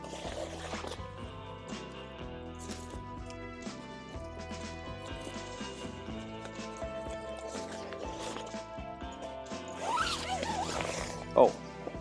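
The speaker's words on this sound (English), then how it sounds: "So I am going to zip up the bug mesh." A zipper runs in short repeated pulls along the bug mesh of an inflatable swag tent, a close scratchy ratcheting that continues through the clip against a steady hum, ending with a louder tug.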